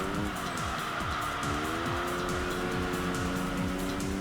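A race car in the Enthusia racing video game brakes hard with loud tire squeal, the engine revving down in repeated sweeping downshifts, continuous and up close.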